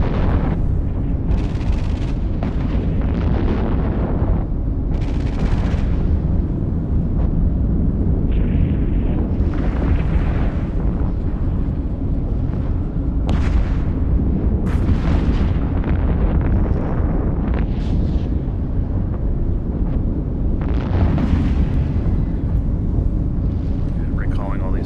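Smart bomb blasts in the space game EVE Online: repeated rumbling booms and crackling bursts over a dense, continuous low roar of combat that never lets up, with a voice talking over it.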